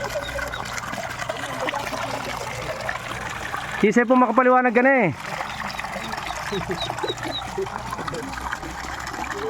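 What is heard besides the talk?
water flowing continuously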